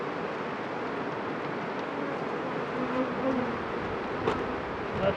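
Swarm of bees buzzing while a beehive is split, a continuous dense hum with slight swells and a few brief louder moments near the end.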